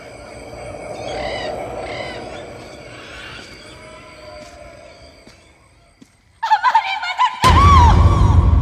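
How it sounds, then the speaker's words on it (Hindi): Kites call out in high, wavering cries over a steady outdoor background, with a louder burst of sharp calls and rustling near the end. "चीलें बोल रही हैं, चीलें।"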